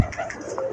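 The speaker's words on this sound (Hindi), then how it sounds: "ये उतर आया दोस्तों कबूतर, धीरे धीरे धीरे अपना उतर रहे हैं।" Madrasi pigeons settling down to land, with soft cooing calls and light fluttering close by, fairly quiet and brief.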